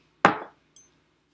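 Star anise pods dropped into a skillet, two short clinks about half a second apart, the first louder and ringing briefly, the second lighter, with silence around them.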